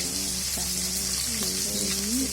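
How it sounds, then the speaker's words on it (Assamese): Fish frying in a pan gives a constant, bright hiss of hot oil, steady and fairly loud throughout, with a low hum and some faint tonal sounds running beneath. "মাছটো ভাজি হৈ আছে মাছখিনি এনেকৈ ভজা হৈ গৈছে"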